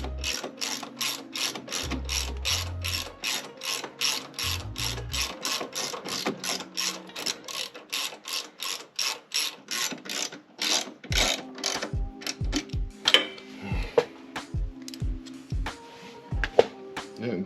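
A ratchet drives bolts into parts for a 2024 Harley Road Glide, making a long run of quick, even clicks, close and clear, then slower scattered clicks and clanks as the work eases off.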